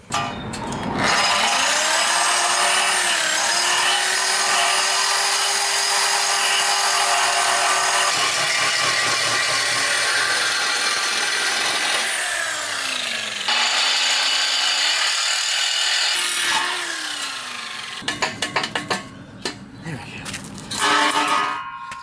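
A power saw cuts through exhaust pipe for a Silverado 5.3 equal-length header build, a loud, continuous grinding whine with pitch dips as the blade bites, stopping briefly around thirteen seconds before resuming and ending with clanks.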